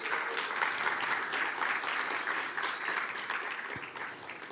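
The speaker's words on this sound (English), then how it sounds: "So please, one big round of applause for the organizers." A conference audience at a Python developer event applauds the organizers, with a continuous, even round of clapping that fades slightly near the end.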